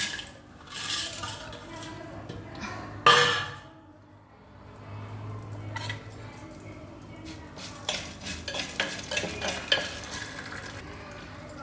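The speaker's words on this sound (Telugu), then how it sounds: "తాలింపుకి వెల్లుల్లి రెబ్బలు సిద్ధగొట్టుకున్నవి, జీలకర్ర, మరి నల్ల మినపప్పు, అది పొట్టు మినపప్పు, శనగపప్పు, ఆవాలు" Garlic cloves, cumin, black urad dal, chana dal and mustard seeds fry in a pan for tempering, a low sizzle broken by spoon scrapes and metallic clinks of utensils, one sharp knock early on, with no talking.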